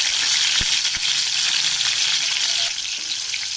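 Tomato sizzling in hot oil after a tempering of spices, a loud continuous close-up hiss with a couple of soft knocks early on.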